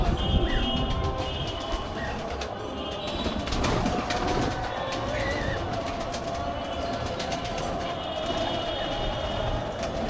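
Pigeons kept on a house rooftop coo and flutter near the microphone over a constant rumbling background, with faint voices now and then.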